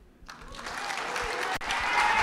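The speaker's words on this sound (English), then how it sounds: "how about another big round of applause for your Miss Samoa Hawaii" Applause erupts at the 2021 Miss Samoa pageant for the outgoing Miss Samoa Hawaii, rising quickly from quiet into a full, steady crowd clapping that swells louder toward the end.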